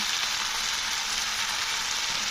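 Green tomatoes and onions fry in a pan with a steady, dense sizzle that holds evenly throughout, close and fairly loud, with no voices.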